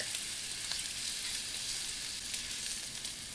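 Country style pork ribs sear in the hot pot of a pressure cooker with a loud, steady, close sizzle that holds evenly throughout, with no voices.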